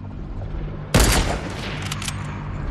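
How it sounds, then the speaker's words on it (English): A sudden loud burst of gunfire in Fortnite sits over a low, steady background, then settles into quieter crackling shots trailing off. "I'm just shooting down stuff"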